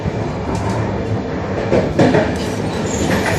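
An Ankara–Istanbul train rumbles along the rails in a loud, continuous roar, with faint rhythmic clacking and hiss carrying through the whole stretch.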